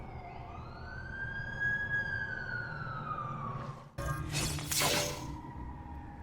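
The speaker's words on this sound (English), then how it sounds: "That's the ambulance I called." An ambulance siren wails in a cutscene from The Amazing Spider-Man 2 video game. It holds a rising and falling tone at moderate distance, then gives way to a sharp shattering crash near the end.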